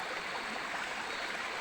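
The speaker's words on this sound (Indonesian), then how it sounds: "Inilah ya keberadaan sungai" A small river near its headwaters in a customary forest flows steadily, with a continuous broadband rushing and trickling wash at close range and no voices.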